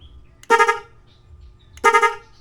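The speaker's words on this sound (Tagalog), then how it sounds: "Di ba napakalakas mga master ng ating busina." Two loud, blaring horn blasts from a Music 3+ Pro horn on a motorcycle, each about half a second long, separated by a pause over a faint background hum.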